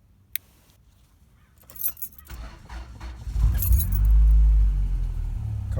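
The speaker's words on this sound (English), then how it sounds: "Car starts perfectly fine." A Honda car fitted with a fuel pump kill switch: a jangle of keys, a few clicks and the starter cranking before the engine catches and settles into a loud, steady idle.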